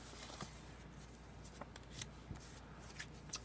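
Cards and an envelope from a Steve Jackson Games mystery box are handled, producing soft, faint rustling and a few light flicks and taps close by.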